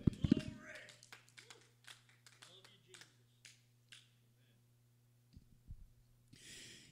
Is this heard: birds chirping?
no